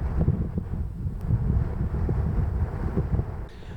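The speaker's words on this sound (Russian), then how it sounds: "Но ветер поднялся такой силы, что буквально валил с ног." Strong gusting wind on a high mountain pass near Everest, buffeting the microphone with low rumbling roar and uneven surges, loud and continuous, with a brief rustle near the end.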